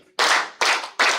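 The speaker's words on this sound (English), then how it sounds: "Can we clap for him? 3 hearty claps." An audience at a tourism systems presentation gives three hearty claps in unison, evenly spaced, loud and close, with no talk over them.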